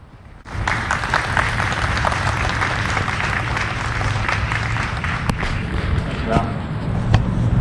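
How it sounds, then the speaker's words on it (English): A crowd bursts into warm applause at a naval officer's retirement evening, the clapping starting abruptly and then holding steady and full for several seconds, with some voices mixed in. "Ladies and gentlemen, please give a warm round of applause to Mr. J. Showman."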